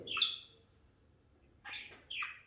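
An injured rose-ringed parakeet gives sharp, high chirps: one near the start and two more near the end, close but fairly soft over a quiet room.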